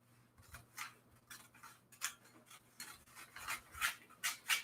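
Scissors cut out a paper junk journal cover piece in a slow, quiet series of crisp snips and rustles at close range.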